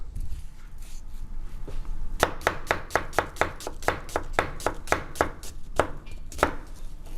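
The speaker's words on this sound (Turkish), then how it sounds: "Şimdi soğanlarımızı piyazlık doğruyoruz." A knife chops onions rapidly on a board, a quick run of sharp, evenly spaced strikes after a quiet start, close and loud.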